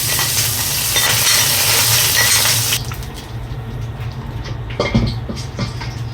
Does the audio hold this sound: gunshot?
no